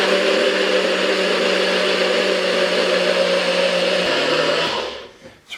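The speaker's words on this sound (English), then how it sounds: "I'm going to go ahead and blend this up." A blender whirs through a mayonnaise sauce with Worcestershire sauce, cayenne and paprika, running as a loud, steady motor drone for about four seconds before winding down and stopping.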